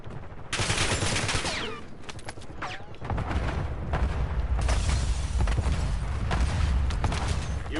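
Dense gunfire fills a Black Ops 6 Battle Royale match, with rapid automatic bursts and booming shots running almost without a break, loud and close, and a short lull near the start.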